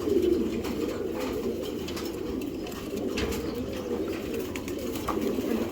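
Pair of Giribaz pigeons of a Chharachharir line cooing steadily, a continuous murmuring layer of several birds close by, with faint background rustles and no talk.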